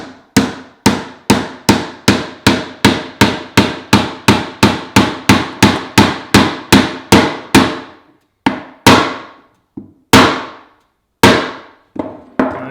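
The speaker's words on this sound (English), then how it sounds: "Then fingers out the way and tap the nail home." A hammer taps a nail into a wooden apple crate, a fast run of about twenty sharp, loud, evenly spaced strikes that slows to a few spaced final blows.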